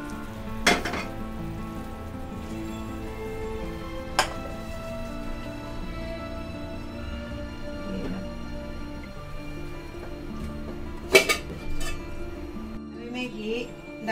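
Bread fries in ghee in a pan for shahi tukda, a steady low sizzle with a few sharp clatters of utensils against the pan and some quiet talking mixed in.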